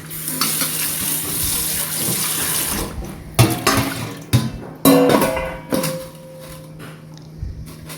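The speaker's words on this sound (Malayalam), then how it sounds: "ഞാൻ പച്ചവെള്ളം ഒഴിച്ചൊന്ന് കഴുകിയെടുക്കുന്നുണ്ട് കേട്ടോ" Cold water runs from a tap over boiled Chinese potatoes in a sink, first as a steady hissing stream, then as splashy bursts while the tubers are rinsed and stirred by hand.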